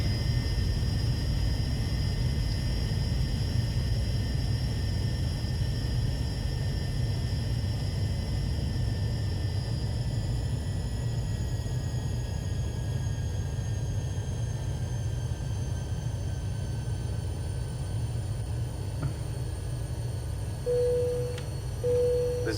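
An airliner taxis in the Cabin Crew Simulator game, a steady low engine rumble with a faint high whine held throughout, plus a short electronic tone near the end and no talk.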